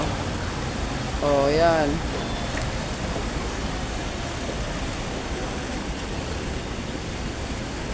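A water fountain at NAIA Terminal 2 splashes steadily after rain, a dense, even hiss of falling water heard up close throughout, with a brief voice speaking over it early on.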